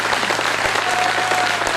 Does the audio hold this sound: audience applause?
yes